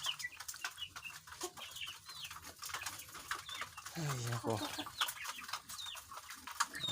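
Dekalb Brown chickens cluck and squawk nearby in a busy chorus in their coop, while someone speaks briefly over them.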